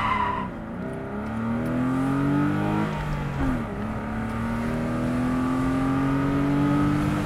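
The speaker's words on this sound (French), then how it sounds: "On va se faire un petit 0 à 80 pour voir ce que ça donne." A BMW with a twin-VANOS engine accelerates from standstill to about 80 km/h, its engine note rising steadily through the gears with a brief dip at a shift, loud and close with no talk over it.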